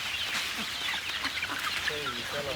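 Chicks cluck and peep close by over a steady background hiss, with a few higher chirping calls near the end.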